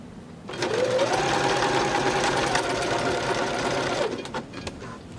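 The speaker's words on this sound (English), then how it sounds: "I use a knit stitch to sew the elastic together along the stitching line I'd marked earlier." A sewing machine runs a knit stitch joining elastic for a pant waistband, one continuous close whirring run of about three and a half seconds with a slight pitch rise at the start, then stopping, with faint clicks afterward.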